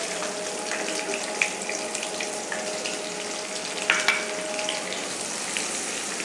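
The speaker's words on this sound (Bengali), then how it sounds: "আমি পেঁয়াজটা কিছুক্ষণ ভেজে নেব" Chopped onions, about a cupful, fry in hot oil for a tilapia curry, giving a steady hiss of sizzling throughout with a few light clinks and scrapes, heard alone at moderate volume.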